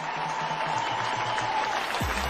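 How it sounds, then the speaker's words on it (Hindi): Steady applause from the audience at a business success-story event, continuous and moderately loud, with a faint electronic hum running underneath. "मैं जोरदार तालियां चाहूंगा।"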